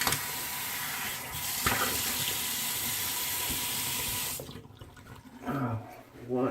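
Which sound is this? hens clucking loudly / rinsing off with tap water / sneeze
rinsing off with tap water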